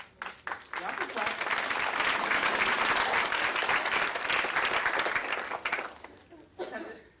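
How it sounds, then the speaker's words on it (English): An audience at the 2014 CLPP Conference closing plenary breaks into loud, dense applause that swells quickly, holds steady for several seconds, then thins out into a few scattered claps. "Y'all can clap."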